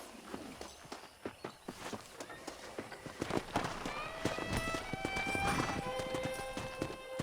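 Horse hooves clip-clop at a steady walking rhythm in the Western video game Red Dead Redemption, with a faint whinny. Tonal game music or ambience swells in the latter half.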